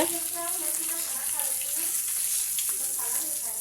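Fish sizzles in hot oil, giving a bright, even crackling hiss close by, with faint voice-like tones now and then beneath it.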